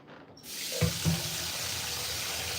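A kitchen tap opens and runs cold water into a sink to rinse a freshly caught walleye. Faint quiet is followed by a sudden rushing stream with a couple of splashes, then a steady, moderately loud flow.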